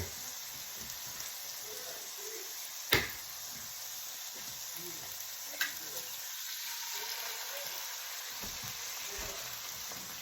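An egg frying in a pan of seafood gravy, a soft, steady sizzle with a couple of sharp knocks from a utensil and faint bubbling, quiet and close.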